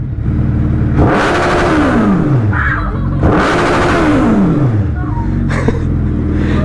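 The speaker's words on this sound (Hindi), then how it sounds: "बाइक की आवाज सुनना चाहते हैं। इनको एक बार आवाज सुना देते हैं," A Suzuki Hayabusa motorcycle engine is revved hard twice, each blip rising quickly and then falling away in a long descending whine, with a short throttle burst near the end, loud and close.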